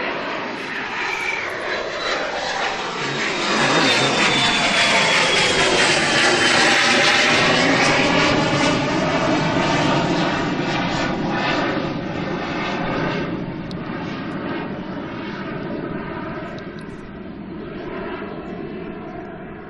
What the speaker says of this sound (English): That's a Gulfstream G280, destination Newcastle.